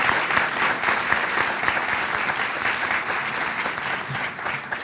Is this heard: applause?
yes